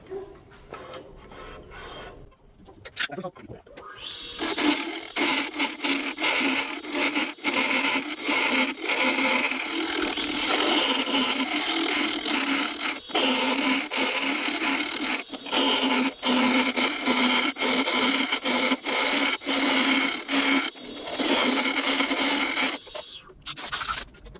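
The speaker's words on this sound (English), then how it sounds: "We're getting a lot of chatter off of the 1/2 inch scraper" A half-inch scraper chatters against wood on a lathe, producing a loud, continuous rasping grind with rapid stuttering texture that runs for roughly twenty seconds after a quieter start, close and alone.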